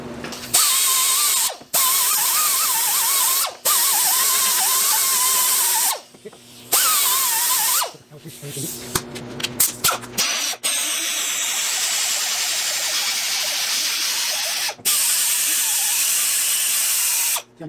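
A steel wire brush on a power tool scours corrosion from the front wheel hub of a 2014 Infiniti QX60, in loud, sustained whirring bursts broken by short pauses, with rattling clatter and a gritty scraping hiss.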